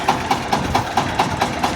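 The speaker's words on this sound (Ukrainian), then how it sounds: "трактор працює" A Shifeng tractor engine fitted with a shortened cab from a Massey Ferguson tractor runs steadily nearby, a rhythmic knocking idle with evenly spaced pulses about four times a second, loud and alone without any talk.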